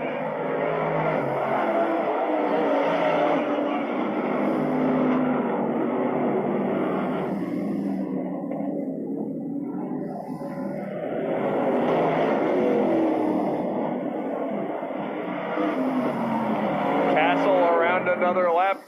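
Vintage race cars roar around an oval track during a race, engines droning continuously with a dip as cars pass and build again, heard at a distance beneath steady race commentary.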